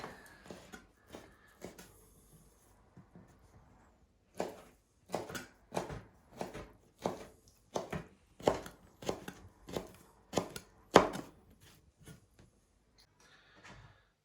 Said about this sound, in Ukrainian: я зараз нарізаю чорнослив